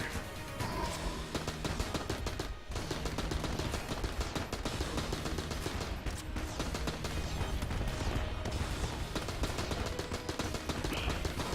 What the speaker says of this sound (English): True to his name, he shoots cannons everywhere.